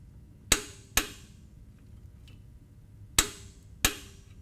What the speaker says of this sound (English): take our torque wrench and 5/8 inch socket and finish.